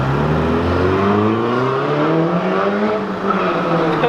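At an RSX Type S cruise car meet, a car revs hard in a burnout, engine pitch sweeping up and down in loud repeated climbs with rough tire noise underneath, close by and steady throughout.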